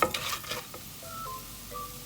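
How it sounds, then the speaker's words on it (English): Turmeric powder and salt are stirred in a pan over a low flame for popcorn, giving a short burst of scraping strokes followed by a soft sizzle and faint thin tones. "Then mix it very well."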